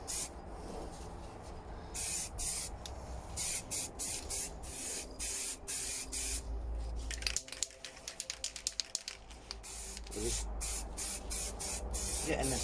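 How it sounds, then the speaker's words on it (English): An aerosol can lays a light first coat of spray paint on the air intake of a Volvo RC truck model, a loud hiss in repeated bursts with short pauses between them. "getting this light first coat on there"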